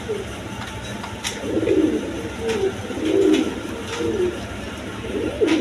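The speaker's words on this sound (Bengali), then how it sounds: "দর্শকবৃন্দ এখানে এক পেয়ার বিউটি কবুতর আছে দেখেন" A pair of beauty pigeons gives soft, rolling coos in several close bouts, near and steady against a light background hum.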